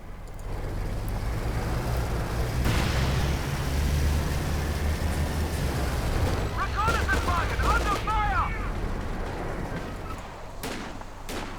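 Machine gun fire in the World War II strategy game Company of Heroes 2, with bursts of gunfire and engine rumble in a continuous battle mix, and a commentator talking over it.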